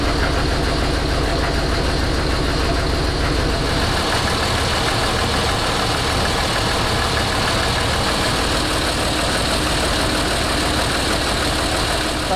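The engine of a 1991 Jeep YJ runs steadily just after its first start in years, a loud, rough idle with a busy mechanical clatter continuing throughout.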